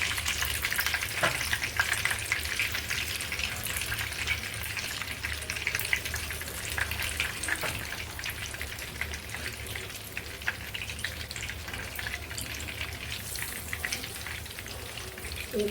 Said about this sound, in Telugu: చిన్న చిన్న వడలు వేసుకొని నూనెలో కాల్చుకోవాలి ఎర్రగా